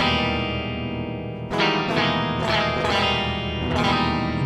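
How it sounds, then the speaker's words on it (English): Electric guitar run through a Line 6 Helix poly capo pitch-shift effect, a sustained chord ringing with a warbly, processed tone, then three or four fresh strums struck about a second apart, each swelling and decaying. "So I have a poly capo, which sounds like this."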